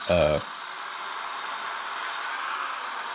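An RC truck's electronic sound module plays a generic diesel engine throttle sound, a steady synthetic rumbling drone that rises slightly near the end, preceded by a brief horn-like blast.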